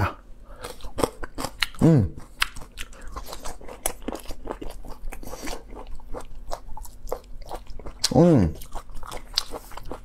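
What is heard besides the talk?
ASMR mukbang, crunchy chewing of a spicy chard root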